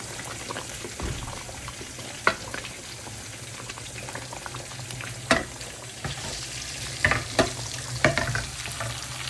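Tempering spices sizzle steadily in hot oil in a pan for dal, with occasional sharp pops and clinks of utensils against metal, and no voices.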